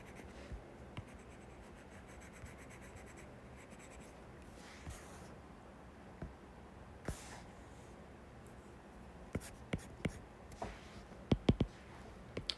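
A pen scratches across paper in soft, irregular strokes and squiggles, close and quiet, with a few sharper taps and scratches near the end; no talking.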